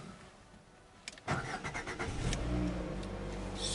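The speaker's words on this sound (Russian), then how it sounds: "Ну что, пробуем пуск двигателя." A Lada Vesta engine, just fitted with new spark plugs after running rough, cranks briefly, then catches and starts, settling into a steady, close idle rumble.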